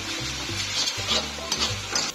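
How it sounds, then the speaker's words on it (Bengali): Onions fry in oil in a pan for egg and shrimp fried rice while a spatula stirs them. A steady close sizzle runs under repeated scraping strokes. "পেঁয়াজটা ভালো করে ভেজে নেব।"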